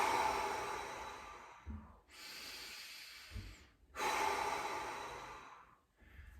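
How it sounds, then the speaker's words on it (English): Deep breathing during a warm-up exercise, two long hissing exhales with a brief sniffing inhale through the nose between them, close and clear with no talk. "Just want you to start by finding some deep breaths in through the nose."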